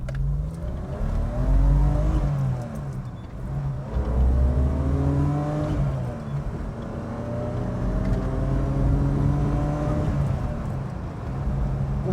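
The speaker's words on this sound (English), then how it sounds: "It's time now to take it through the gears." BMW E28 Hartge H5 SP accelerating through the gears, a loud engine climbing in pitch with each gear, dropping at the shifts and pulling again, heard from inside the car without talk.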